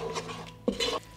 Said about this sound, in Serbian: Promešat ću par sekundi na nižoj temperaturi.